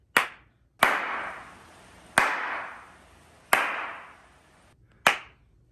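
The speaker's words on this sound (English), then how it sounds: "So now I'm going to do the clap test." Five sharp hand claps ring out at roughly even spacing in an acoustically treated room with rugs, panels and drapes, each crack dying away quickly with little lingering echo.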